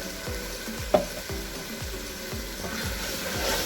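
Spices sizzle and fry in oil in a pot as tomato paste goes in for beef paya, with a steady crackle under repeated scraping stirs and one sharp clink of utensil on metal.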